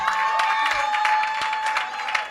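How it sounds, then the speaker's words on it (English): Audience applause at a speaking event honouring an ambassador, a steady, dense clatter of many hands sustained throughout, with a steady tone and faint crowd murmur underneath. "please keep clapping"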